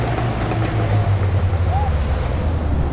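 A fishing boat's engine drones low and steady out on the sea, with wind and surf noise washing over it and faint voices in the background.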